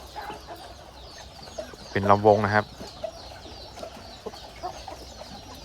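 A young Thai fighting-breed cockerel, newly brought in, gives a short burst of clucking near the middle, loud and close, with faint background noise and someone speaking before and after.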